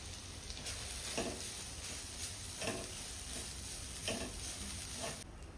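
Grated coconut roasting in a pan for modak filling, with a steady close sizzle and periodic scraping stirs about once a second, continuous and moderately loud with no talk.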